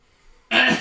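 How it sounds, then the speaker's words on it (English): A single short, harsh cough or throat-clearing burst, close and fairly loud, following a stretch of near silence. "He kind of coughs."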